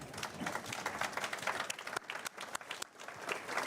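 Applause at a South African Revenue Service command center address, brisk clapping from a group close by, with individual hand claps clearly audible in a dense, lively burst lasting a few seconds.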